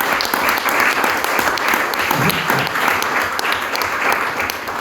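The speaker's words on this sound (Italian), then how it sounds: "Te li merito tutti gli applausi Luciana per quello che ha fatto" A crowd at a literature festival opening applauds steadily and warmly, dense clapping filling the whole stretch at a constant level without pause.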